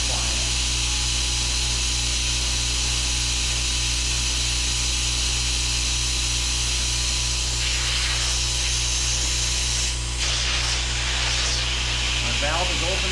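A Fortress ultra quiet 26 gallon air compressor runs at a constant level with a low motor hum and airy hiss throughout, heard close by. Brief rattling or hissing changes appear near the end.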